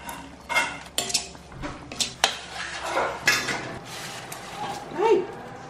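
Potatoes are fried and stirred in a pan for a fritada, with scattered clinks and scrapes of utensils against the pan in a quiet kitchen.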